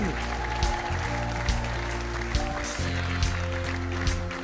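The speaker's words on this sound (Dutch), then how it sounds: "Geef ze een groot applaus." A circus audience applauds the musicians of Circus Mük, steady clapping sustained across the clip beneath loud band music with a thumping beat.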